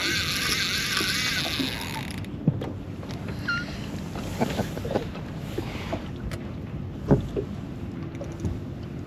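A fishing reel's drag clicks and buzzes as line is pulled off, mixed with a boat's engine hum and gusts of wind on the microphone.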